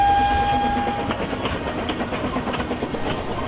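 A steam train rolls along the rails with a hissing, rhythmic clatter, opening with a brief sustained whistle-like tone before the running noise carries on alone.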